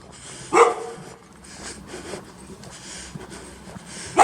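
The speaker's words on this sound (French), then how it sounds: "Oh, le toutou." A small dog gives a sharp bark, then a quieter stretch of faint snuffles and background noise on a street, with another bark bursting in right at the end.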